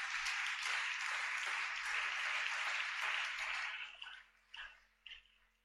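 A church congregation applauding for the Lord during worship, a broad sustained clapping that runs for about four seconds before thinning out into a few scattered final claps.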